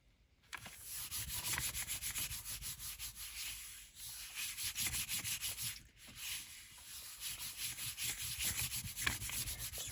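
Paper scraps are rubbed flat by hand for a junk journal craft, a steady scratchy rasping stroke repeated continuously, close and fairly loud, with brief pauses between passes and no talking.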